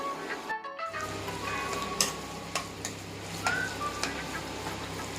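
Raw mango chutney being stirred with red chilli powder in a pan, with a soft continuous stirring scrape, light sizzle and occasional clicks of the spoon, nearby with no talk.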